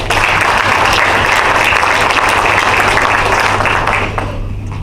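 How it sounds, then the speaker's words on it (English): A change of command ceremony audience at DLA Bahrain breaks into sustained, loud applause, dense clapping filling the room for several seconds before tapering off. "Let's give her a hand clap."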